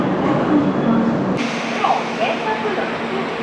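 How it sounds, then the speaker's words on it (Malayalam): Train standing at Mangalore railway station, a steady rumbling hum with a brief hiss partway through, heard near and continuous. "ഇതാണ് നമ്മുടെ ട്രെയിൻ."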